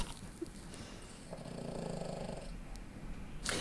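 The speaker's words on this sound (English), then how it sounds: "is snoring right here on the couch" A pet snores on a couch indoors, soft rhythmic rumbling breaths repeating close by over a few seconds against a low background hum.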